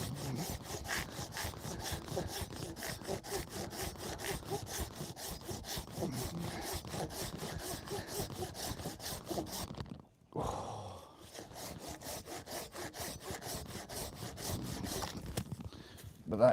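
A hand saw cuts dense firewood with steady, rhythmic back-and-forth strokes, loud and close, pausing briefly partway through before the sawing resumes.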